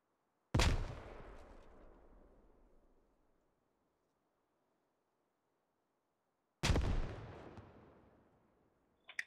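Two frag grenade explosions in the military shooter Squad, each a sharp loud boom with a long rolling decay, several seconds apart, followed by a faint brief pop at the end.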